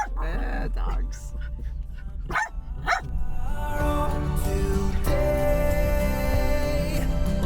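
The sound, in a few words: dogs barking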